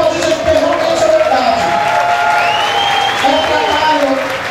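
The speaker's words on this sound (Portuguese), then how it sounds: "Então eu acho que pode aplaudir de verdade." Audience applauding and cheering at the final of a dance show, loud sustained crowd noise under which sung or spoken voices and music tones run throughout.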